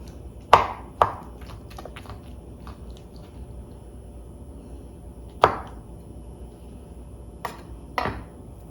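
Kalamata olives get a rough chop with a knife on a board, a few sharp, irregular thuds and clicks spread apart over quiet background, close up.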